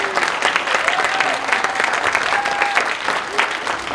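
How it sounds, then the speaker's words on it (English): An audience at the Philadelphia Metropolitan Board of Realtors installation ceremony applauds the new president with steady, loud, sustained clapping throughout, plus a few faint tonal whoops or voices mixed in. "Please give her a round of applause."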